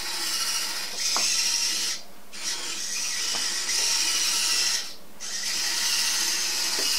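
A small ODROID-powered Android wheeled robot drives along, its motors giving a steady whirring hum that stops twice briefly and then resumes.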